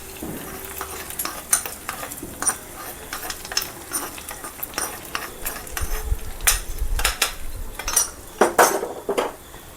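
Spoon scraping and clinking against a pot while coconut milk is stirred into cooked cassava for Kerala-style paal kappa, a steady run of close, repeated scrapes and knocks with a faint sizzle beneath, no talk.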